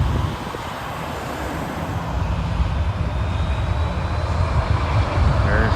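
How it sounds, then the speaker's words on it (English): A plane taking off at Hobby Airport in Houston, heard as a steady, broad engine roar that swells gradually and stays loud throughout. "There's another one taking off"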